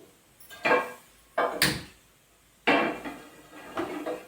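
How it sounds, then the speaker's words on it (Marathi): A frying pan set down on a gas stove while cooking stuffed karela sabji, giving a few sharp metallic clunks and scrapes with pauses between them, close and fairly loud, with no talking. "गॅसवर पॅन आपण तापत ठेवलेला आहे"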